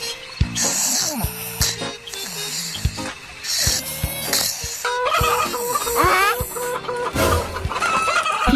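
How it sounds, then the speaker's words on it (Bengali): Chickens cluck and squawk agitatedly at night inside a coop, a close, loud series of irregular cackles and alarm calls over about eight seconds, with rustling and knocks in between. "এত রাতে মুরগি চিল্লাচ্ছে কেন?"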